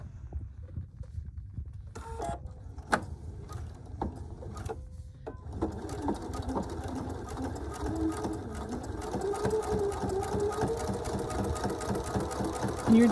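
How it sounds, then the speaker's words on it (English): A sewing machine stitches binding all the way to the edge of the fabric, starting with a few clicks and short bursts, then running in a steady, close, continuous hum that rises slightly toward the end. "And you're just gonna sew to the edge"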